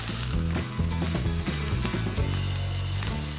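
Homemade hamburger patties sizzle loudly in a pan just after being flipped, a dense crackle with an underlying steady tonal hum, close and continuous with no one speaking.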